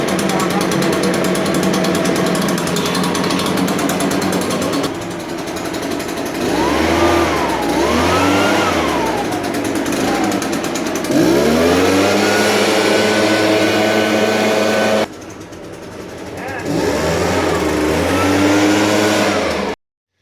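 Echo PB580T backpack leaf blower engine running right after its first start, a loud close buzzing drone that dips and surges in pitch as the throttle is blipped, with brief drops to idle between revs.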